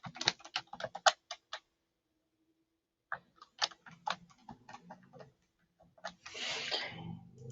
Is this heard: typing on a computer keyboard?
yes